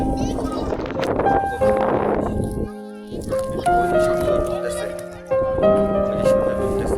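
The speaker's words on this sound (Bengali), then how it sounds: "অনেক বাতাস, অনেক বাতাস।" Strong wind buffets the microphone outdoors on a boat trip near the coast, with gusty roar throughout while voices, including a child's, talk over it.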